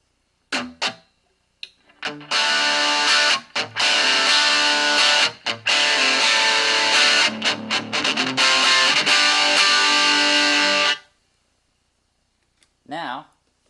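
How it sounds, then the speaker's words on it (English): An electric guitar with Seymour Duncan pickups is played through a small practice combo amp on its distortion channel, giving a loud, dense, sustained roar broken by brief stops. A bent, wobbling note follows at the end. "Your distortion."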